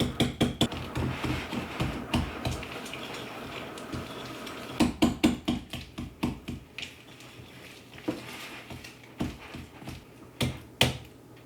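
Butter being whisked with coconut sugar and salt in a bowl, a rapid series of sharp clicking and tapping strokes in uneven bursts, close and fairly quiet, with no talking.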